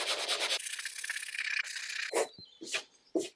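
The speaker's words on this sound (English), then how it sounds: "I just put some glue in and then just sanded it over" Sandpaper rubbed over a glued seam between two pieces of wood veneer, a steady raspy scrubbing that gives way to a few short, separate strokes near the end, close and fairly quiet.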